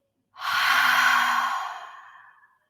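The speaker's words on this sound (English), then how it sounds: "breathe in and exhale." A single deep exhale, breathed out slowly and close by for about two seconds, as a soft airy rush that fades gradually into silence during a guided relaxation practice.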